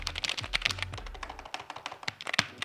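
Quick, close typing rattles on a cheap Walmart membrane keyboard, a dense run of soft clicky keystrokes with a few heavier thumps near the start, no voices.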